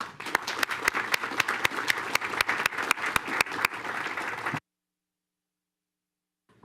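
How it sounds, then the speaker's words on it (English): Audience applause fills a school board of trustees meeting room, a steady dense patter of many hands with sharp individual claps standing out, lasting several seconds before cutting off abruptly into silence. "We're going to give you a round of applause"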